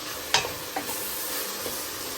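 Ground meat for chili browning in a pot, a steady sizzle under a few sharp scrapes of a spoon stirring against the pot, the first scrape loudest and the later ones softer, with no talk.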